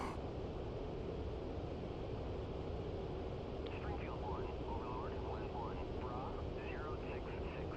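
F-15E engine in the DCS combat flight simulator, a steady loud broadband roar holding constant throughout, with faint radio-like chirps and a voice speaking over it in the latter half.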